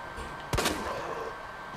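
A single sharp handgun-style shot in the survival horror game Resident Evil 2 Remake, fairly close and brief, over a low ambient background.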